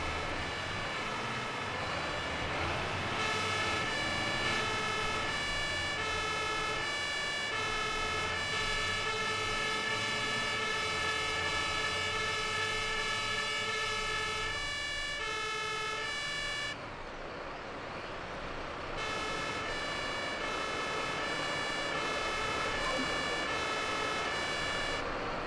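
A turntable ladder fire truck in the fire brigade simulator Notruf 112 drives with its siren wailing in a steady, looping two-tone pattern, loud and close, with a brief break partway through and engine rumble underneath.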